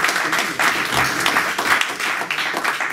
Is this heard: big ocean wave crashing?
no